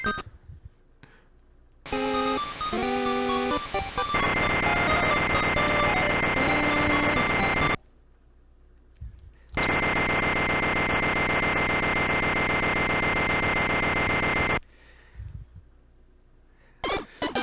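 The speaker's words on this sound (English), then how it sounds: "They also put in an alarm clock." A loud electronic alarm clock blares in Wario Land II on Game Boy Color, with two long, harsh ringing stretches separated by short pauses and a brief tune before the first one.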